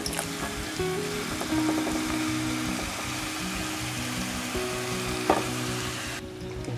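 Scallion oil poured into hot oil left from frying tofu, sizzling and crackling steadily and loudly up close for several seconds before cutting off, no talking.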